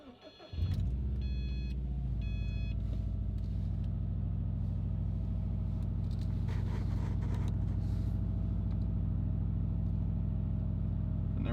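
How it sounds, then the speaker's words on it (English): A Subaru engine cranks and catches after a brief whir, then settles into a steady, low idle rumble that continues close by. "let's start up the car."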